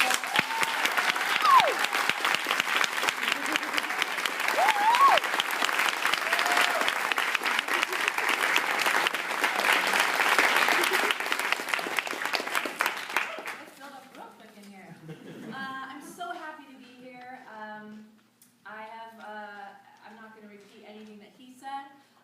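An audience at a master class applauds to welcome a singer, with a long run of dense clapping that stops abruptly about halfway through, after which a single person speaks alone.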